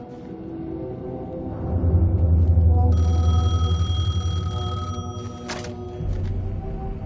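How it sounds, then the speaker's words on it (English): Payphone ringing in the Alan Wake video game, a loud, close bell-like trill that repeats over an eerie low ambient drone. "The payphone was ringing."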